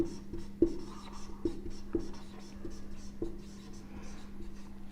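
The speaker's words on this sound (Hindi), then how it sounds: "यहां लिख देता हूं" Marker strokes squeak and scratch on a board, brief scribbles with a few sharp taps, close by over a steady low hum and faint room noise.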